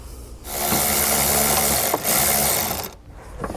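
A T40 Torx bit on a power driver backs out the bolt of a tie-down hook on a 2018 Mercedes-Benz GLC, giving one close, continuous whirring grind of about two and a half seconds that stops abruptly.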